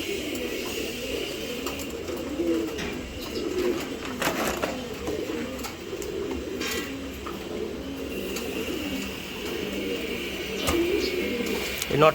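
Racing pigeons coo softly and repeatedly nearby in a low, rolling murmur, with occasional wing flutters and small clatters mixed in.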